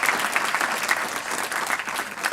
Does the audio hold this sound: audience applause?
yes